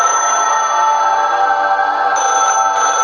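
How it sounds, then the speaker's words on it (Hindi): A steady electronic ringing tone with a high pitched edge, continuous and fairly loud for a few seconds, with no talking. "तुषार को फिर से उस टेलीफोन के बजने की आवाज आई।"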